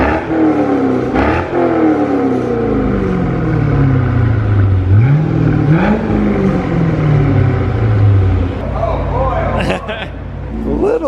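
A cheap auction Chevrolet C5 Corvette revs and accelerates hard, its engine note sweeping up through gears with clear shift drops, loud and close inside the car, with speech running over it.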